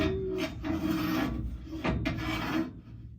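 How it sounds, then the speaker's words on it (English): The metal axle of a mud mixer slides through its housing with a steady, close rasping scrape, rubbing in a few short pushes before trailing off quietly. "The axle slides through,"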